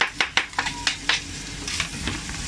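Bacon and garlic fry in lard in a pan with a soft steady sizzle, broken by several sharp scraping stirs of a utensil against the pan, close and moderately loud.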